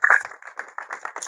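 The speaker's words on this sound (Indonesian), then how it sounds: "tepuk tangan untuk orang yang bagus" At an evening gathering in Boyolali, a small audience claps briefly for a good participant, a quick patter of close handclaps that fades slightly before picking up again.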